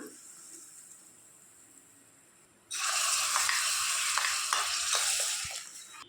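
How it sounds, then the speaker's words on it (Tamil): Tempering of onion and asafoetida poured into a pot of wedding-style sambar bursts into a loud, close sizzle that holds steadily for a few seconds after a quieter lead-in, then eases slightly as it is stirred. "இப்போ தாளிச்சாச்சு சாம்பாரோடு சேர்த்துக்கலாம்"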